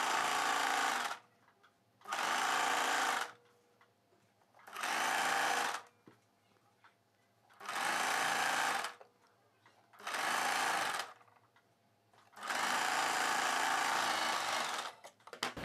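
Electric sewing machine hemming a boat neck blouse, running in six loud bursts of rapid stitching separated by short pauses, close up with no talking.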